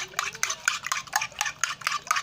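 A spoon stirs a seasoning mixture for fried battered eggplant in a rhythmic series of sharp scraping clinks against the bowl, about eight strokes close up.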